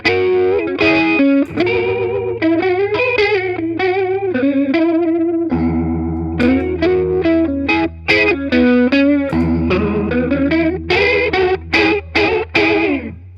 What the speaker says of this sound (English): it's a chorus pedal that I'm getting like two sounds out of it